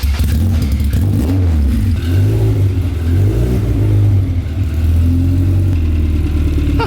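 A Honda S2000 with a K24 engine swap rumbles close by as it is pulled out, deep loud idling with low throaty revs swelling and easing throughout.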